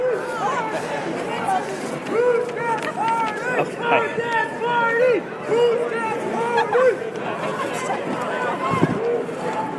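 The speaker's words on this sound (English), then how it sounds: "This crowd is really serene and peaceful." A peaceful protest crowd fills a Portland street with steady overlapping chatter and voices, close and continuous with no sharp outbursts.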